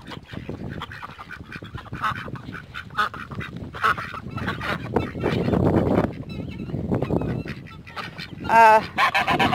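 Chickens and guinea fowl calling together in a farmyard at evening, a busy run of honking, squawking cries and clucks close by, with a loud burst near the end.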